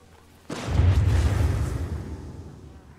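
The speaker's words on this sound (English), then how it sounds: "Again, what is with the fucking explosions?" A sudden loud boom from the video game Deathloop lands after half a second of quiet, then a heavy low rumble rolls on and slowly fades across the remaining seconds, with no speech over it.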